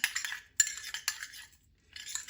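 A spoon stirring turnip peel paste with honey in a small dish, with three close bursts of scraping and clinking, a short pause, then a fourth burst.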